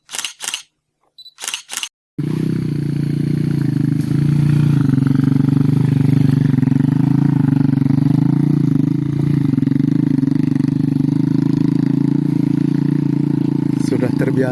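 A goods-laden motorcycle rides a rough village road in Karang Muda Jayagiri. A few sharp clicks come first, then a steady, close engine drone carries on to the end under faint voices.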